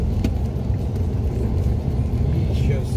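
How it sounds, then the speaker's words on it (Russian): A car engine idles and rumbles steadily at low pitch while the car is parked in a street in Kharkiv, close and continuous for a few seconds with faint background noise. "Сейчас ставлю машину"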